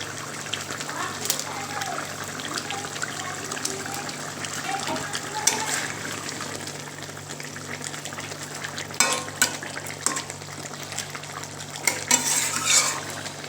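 Doi katla, a yogurt fish curry, cooks in a pan while a utensil stirs and scrapes with occasional clinks against the metal. A steady simmering hiss runs underneath, and a person talks over it.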